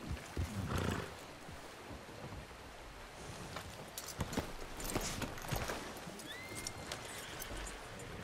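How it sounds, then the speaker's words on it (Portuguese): A horse in Red Dead Redemption 2 clip-clops along at a walk, the hoofbeats faint and irregular among low ambient game sounds, with a brief snort near the start. "Vamos botar o cavalo aqui."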